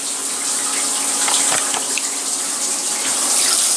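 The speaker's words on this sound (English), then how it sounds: "Now you can see quite a bit more coolant flow there." Flood coolant gushes steadily through a machine tool after a filter change, a loud, continuous splashing rush of liquid close by, with no voices.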